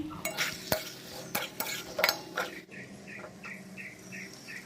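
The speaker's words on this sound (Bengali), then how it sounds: "এবার আরও একটু কিছুক্ষণ কষিয়ে নিয়ে তারপর জল দিয়ে দেবো" Egg and potato curry being sautéed in a pan: a spatula clinks and scrapes against the metal in irregular strokes, with a soft sizzle and faint repeated chirps in the background.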